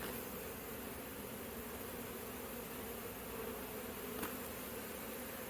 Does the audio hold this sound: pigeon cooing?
no